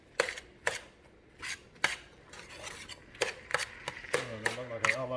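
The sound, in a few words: stirring onions in a pan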